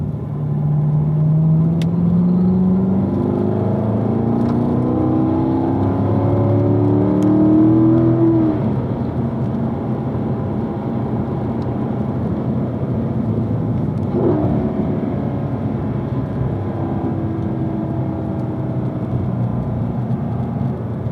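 Race car lapping the track at Spring Mountain, its engine a loud sustained drone that rises in pitch, eases off and then builds again, heard close from inside the car for the whole stretch with no talking.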